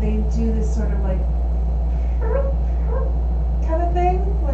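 A human voice imitates a cat's little chirps, making several short, rising chirrups in quick bursts over a steady low hum.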